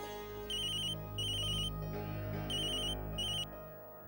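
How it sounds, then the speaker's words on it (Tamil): A telephone sounds an electronic ringtone in a Tamil TV serial scene, four bright trilling bursts in a steady on-off rhythm over a low background hum. "ராஜன் சார் தான் ஃபோன் பண்றாரு"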